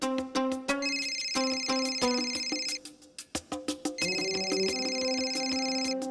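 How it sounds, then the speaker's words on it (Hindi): A phone rings with a melodic electronic ringtone, repeating bright tonal phrases loud and close, with a brief dip before the tune resumes, set in a Hindi TV drama scene. "पार्टी के अध्यक्ष का फोन।"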